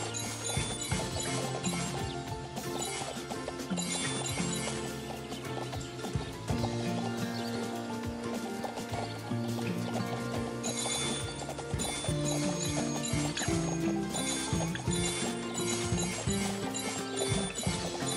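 Pony hooves clip-clopping along a magical path in a My Little Pony video game set in Maretime Bay, the steps tapping over a dense, continuous game music bed with a brief whinny and no talking.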